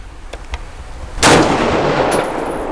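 A single loud, sharp rifle shot from a Century Arms PSL 54 at an outdoor range cracks close by and rings out, preceded by a couple of faint clicks of handling.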